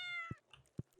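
A cat in the farming game Stardew Valley gives two short, clear meows about half a second apart, heard over soft, tinkling game music.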